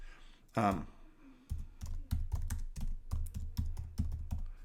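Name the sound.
typing on a computer keyboard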